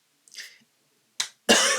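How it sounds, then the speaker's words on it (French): A woman coughs a few times in quick bursts during a treadmill workout session, the last cough loud and close. "je commence à me tousser"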